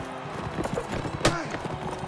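Horse hooves clip-clopping at a gallop in the game Mount and Blade Warband, a steady rhythmic thudding under a man's speech, with a sharp impact near the middle.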